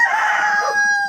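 A Sin Sin Dian rooster lets out a single loud, close crow, brief and clear with a sustained ringing tone.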